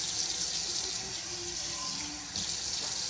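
Tap water runs steadily into a bowl of rice as it is washed of starch, a constant close hiss and splash with a brief dip in flow near the end.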